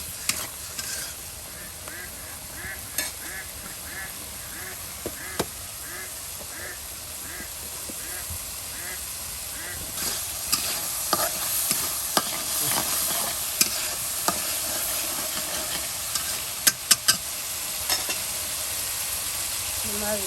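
Spice paste for a prawn curry fries and is stirred in a pan, a steady broadband sizzle with repeated scraping strokes and sharp clicks of the spoon against the pan, with no talk.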